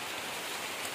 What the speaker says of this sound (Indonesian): jadi sementara hujan teman-teman, jadi kita berlindung dulu